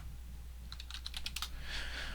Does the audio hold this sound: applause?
no